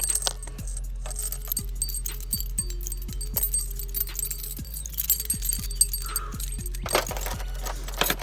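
Keys jangle on a key ring close by, in a string of bright metallic clinks and rattles that come in short irregular bursts over faint background hum.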